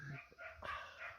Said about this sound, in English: it'll be bleak for those dogs if they don't stop barking.